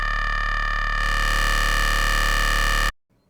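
A distorted deathstep synthesizer drone, loud and harmonically dense, growing brighter and grittier after the first second, held steadily before stopping sharply into near silence.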